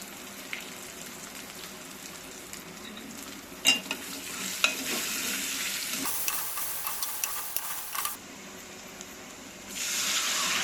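Onions are tossed into hot oil seasoned with asafoetida and turmeric for Telangana-style buttermilk rasam, giving a faint, steady sizzle with a few clinks and stirring scrapes, and the frying grows louder near the end.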